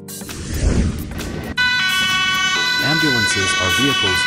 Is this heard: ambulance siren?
yes